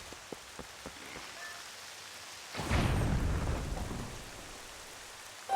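Rain falls steadily in Twilight Princess HD at Hyrule Castle, a constant patter that swells into a loud rolling rumble of thunder midway before easing back to rain alone.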